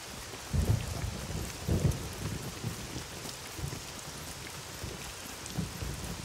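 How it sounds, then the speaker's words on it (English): Steady nighttime rain in the survival game SCUM, a dense hiss of drops on surfaces with low rumbling swells like distant thunder rolling through, no voices. "Why not just run out into the rain in the middle of the night?"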